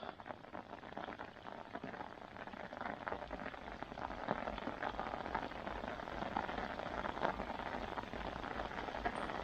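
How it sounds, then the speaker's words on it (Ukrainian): Heavy summer rain pours down steadily during a fishing trip, a dense continuous hiss of drops drumming on surfaces and an umbrella, close and loud throughout with no talk. "дивіться, яка почалася злива."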